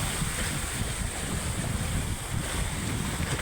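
A boat moored at sea in strong wind rocks amid steady wind roar and wave wash, a dense, continuous rush with no pauses.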